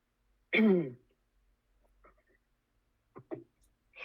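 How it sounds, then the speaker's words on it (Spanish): One sharp throat clearing or cough up close, then quiet, followed by a couple of smaller throat sounds. "me dio comezón en la nariz y tos o alguna cosa"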